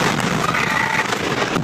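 The aftermath of the West Texas fertilizer plant explosion: a loud, dense roar and crackle fills the whole moment, a sustained broadband blast rumble heard up close, without speech.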